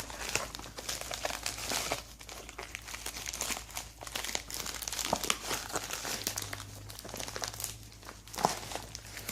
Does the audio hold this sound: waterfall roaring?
no